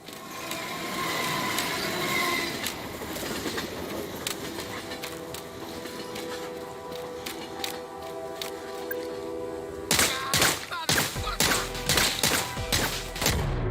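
Video game gunfire cracks in a rapid burst of sharp, loud shots in the last few seconds, following a stretch of layered game sound effects and background music.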